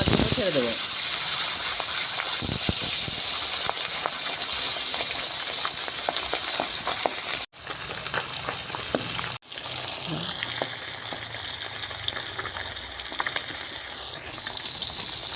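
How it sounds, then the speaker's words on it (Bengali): Pabda fish frying in hot mustard oil in a wok, a loud continuous close sizzle and hiss that drops briefly twice before carrying on, with occasional stirring scrapes. "তেল গরম হয়ে গেছে, পাবদা মাছগুলো ছেড়ে দেব।"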